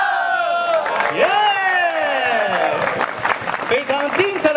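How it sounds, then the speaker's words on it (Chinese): Crowd applause and cheering follow a Khmer martial arts performance at a New Year event, sustained clapping under a loud voice speaking over it, with shouts rising from the audience. "现场的朋友们再次响起热情的掌声"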